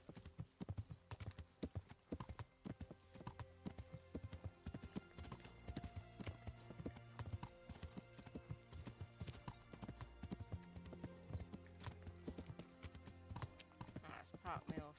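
Horse hooves in the video game Kingdom Come: Deliverance clip-clop in a steady rhythm, with music and a voice talking over them.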